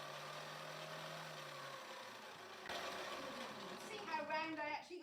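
A woodturning lathe motor switched on slowly with a slice of mossy willow log mounted, a steady mechanical hum that picks up and rises in pitch partway through, with a faint whine and rattle toward the end.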